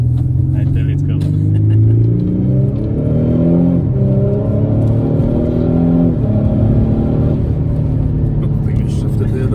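An Audi seven-seat SUV accelerating hard from inside the cabin, engine pitch climbing steadily, dipping briefly at each gear shift and rising again, a loud continuous drone with a few voices talking over it.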